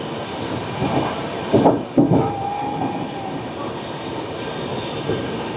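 Kamrup Express rolling through Serampore station, heard from inside the coach as a continuous rumble with a couple of louder clattering bursts in the middle, fairly close and with no speech.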